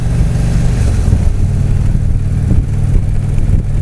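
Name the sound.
big V-twin motorcycle engine rumbling, stock exhaust pipes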